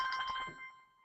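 A bell rings once inside a therapy room, a bright clanging strike with ringing tones that hold and slowly fade over about a second, heard alone.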